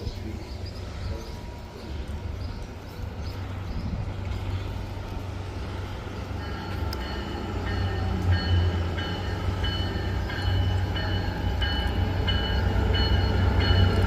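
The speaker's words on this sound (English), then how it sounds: "train approaching" A Stoughton Line commuter train rolls closer, its rumble and rattling wheels growing gradually louder, with squealing metallic tones drifting in over the steady noise.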